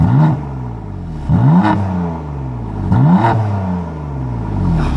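A BMW M3 engine is blipped hard three times, each rev a loud, sharp snarl that falls away into a burbling idle between bursts, recorded close with no talking.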